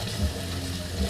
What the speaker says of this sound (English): I'm going to put in 12 ounces of hot water right out of my tap